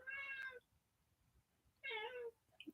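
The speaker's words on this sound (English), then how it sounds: "Do you hear this cat?" A house cat meows twice, close and fairly loud, each call lasting about half a second with a long quiet gap between them; faint rustles follow the second call.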